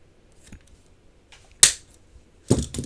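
Scissors snipping through paper while trimming strips for a handmade chunky planner sticker book, two sharp distinct cuts near the middle and end against quiet, with faint small handling rustles before them.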